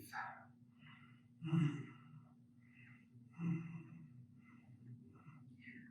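Slow, deep breaths during a yoga neck stretch, with two fuller, louder exhales spaced a couple of seconds apart and soft breathy whispers in between, over a faint steady hum.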